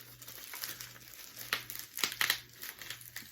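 Crinkly paper rustles and tears in short bursts as a wrapped gift is pulled open, close to the microphone, with no talking.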